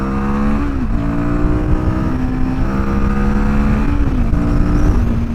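Royal Enfield Guerrilla 450 motorcycle engine pulling hard under acceleration, a loud, continuous, close engine note that climbs in pitch, drops briefly at a gear change and climbs again, with no talk over it.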